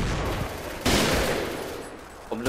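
An AK-47 rifle fires in the shooter game Point Blank: a loud, close burst of shots hits sharply and then tails off, with another crack right at the end.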